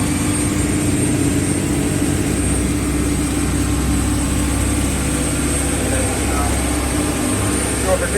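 A boat's engine holds a steady, loud, low drone at cruising speed of about 10 to 11 knots during a sea trial, continuous throughout with no break.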